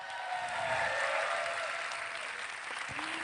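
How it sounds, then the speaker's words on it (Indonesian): A studio audience at a live post-debate show for the 2024 Indonesian vice-presidential debate claps in sustained, dense applause, fairly soft and even, with faint murmurs and a brief whoop near the end. "Saya minta tepuk tangannya dulu pada malam hari ini."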